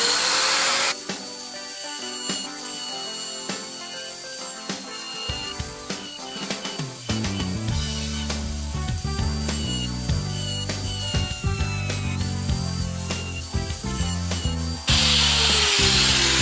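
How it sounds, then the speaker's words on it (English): A rotary tool fitted with a metal cutoff wheel cuts through the fiberglass outer layer of a buckled epoxy surfboard, giving a steady high-pitched whine with grinding shifts in pitch throughout, close and loud, with no talking. "This is a metal cutoff wheel, but what I'm going to do is be very careful to just go through the fiberglass outer layer and cut around."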